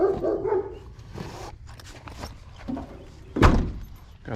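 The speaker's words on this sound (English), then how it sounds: "Hope that these dogs don't get out and try to kill me." Dogs bark in short, loud bursts near a house with a split-system air conditioner during a maintenance visit, with scattered thuds and quiet background noise between the barks.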